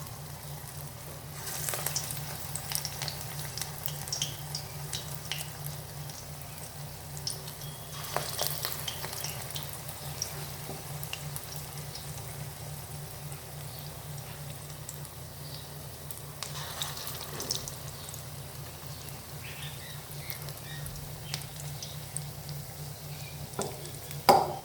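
Fritters of ground masoor lentils with ginger and green chilli, with drumstick flowers, sizzle steadily in hot oil, a soft continuous crackle broken by occasional louder stirring scrapes.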